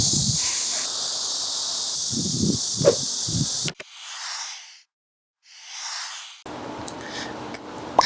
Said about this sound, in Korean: 아, 여기도 매미가 있네.